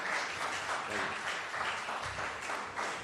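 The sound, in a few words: audience applause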